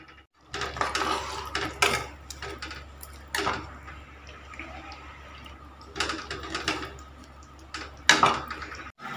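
Kadhi curry being stirred in a cooking pot in a home kitchen, with intermittent scraping and clinking bursts of a spoon against the metal over a steady low hum, close and moderately loud.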